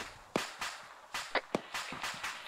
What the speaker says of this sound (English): Incoming fire, southeast.